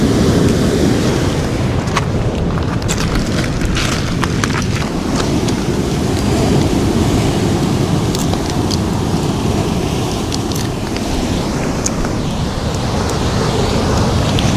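Sea waves crash and wash against a rocky Moroccan shoreline while seafood is gathered. A steady, loud roar of surf with wind buffeting the microphone runs throughout, without a break.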